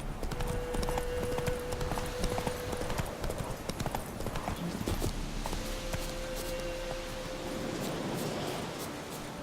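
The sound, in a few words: horse Roach galloping hooves, from video game The Witcher 3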